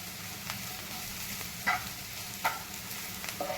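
Spiced bhaji being sautéed in a pan, a soft steady sizzle with three or four sharp spatula scrapes and taps spaced about a second apart, close and fairly quiet, with no talking.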